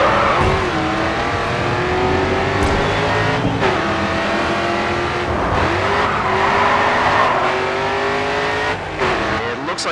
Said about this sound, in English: Looks like someone spun out up ahead of you.